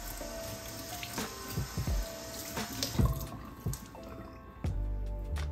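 Water is poured onto a stain-resistant shirt, splashing and trickling close by in uneven bursts with short pauses between pours.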